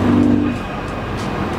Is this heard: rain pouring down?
no